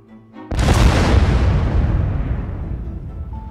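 Video game explosion in SimCity, one sudden loud boom that breaks in after a short quiet lead-in and then rumbles and slowly fades over a few seconds, with no voices.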